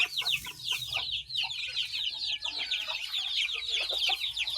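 Australorp chickens clucking close by in a busy, continuous stream of short clucks and calls from several hens, with no talking over them.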